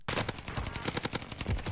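Rapid automatic gunfire crackles in Call of Duty Warzone on Fortune's Keep, a fast burst of sharp close shots in a quick, slightly uneven rhythm.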